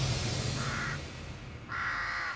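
Crows calling in open farmland, two drawn-out caws standing out against a steady outdoor background hum, the second call longer and louder.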